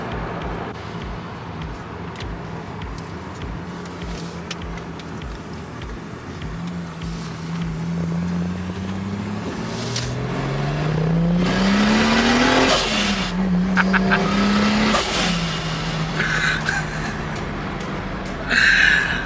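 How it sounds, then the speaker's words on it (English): A high-horsepower street car, up to 1500hp class, accelerates hard with a rising engine note that climbs through the gears, growing louder and nearer with tire noise and wind rush. "Nothing I love more than a little bit of street car getting thrown back in the back of your seat."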